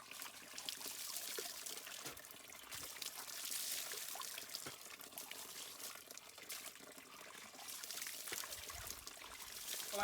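Water is poured over someone bathing outdoors in the mountains, a continuous splashing, trickling stream with a few heavier surges, fairly close and steady for the whole stretch.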